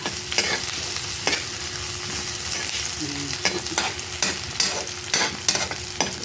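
Squid adobo sizzles in a frying pan while a utensil scrapes and stirs through it, giving steady close frying hiss with irregular clinks and scrapes and no talking.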